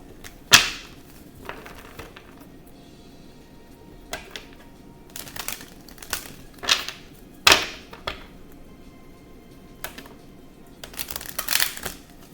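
Tarot cards are shuffled in short, crisp bursts of riffling and slapping, spaced irregularly with quiet gaps between, close and fairly soft.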